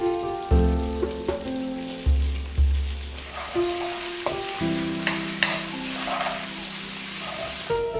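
Curry leaves and dried chilies crackle and sizzle in hot oil, a bright, steady frying hiss broken by short pops and a few low clanks of the pan, with no voices.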